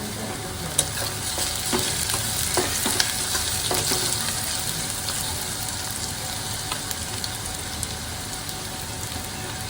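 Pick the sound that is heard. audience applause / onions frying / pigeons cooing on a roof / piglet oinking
onions frying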